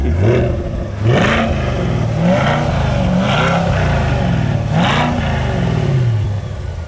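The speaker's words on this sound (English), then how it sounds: "Give me a couple revs." A sports car engine revs up several times, each rise and fall loud and close, with a rumbling idle between the revs.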